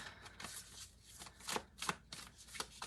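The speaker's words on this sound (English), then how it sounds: "Pull some cards." A deck of cards being shuffled and pulled by hand, a run of soft riffling bursts and light snaps repeating irregularly, close but quiet with no talking.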